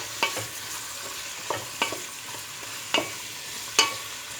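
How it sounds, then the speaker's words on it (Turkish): Potato, carrot and pumpkin sautéing in olive oil: a steady low sizzle broken by four or five crisp clicks of stirring at irregular intervals, close up and with no voices. "patatesi, havucu ve kabağı ekleyelim. Biraz da onları kavuralım."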